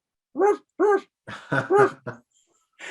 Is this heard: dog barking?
yes